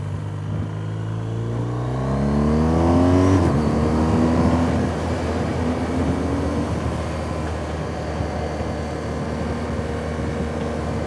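A car on a road trip to Turkey drives steadily with continuous engine drone and road rumble, the pitch rising and shifting as it changes speed.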